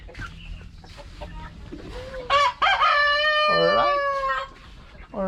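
A rooster crows loudly and close by near a brooder pen, one long drawn-out cock-a-doodle-doo rising and falling, with other fowl clucking and some talk before it.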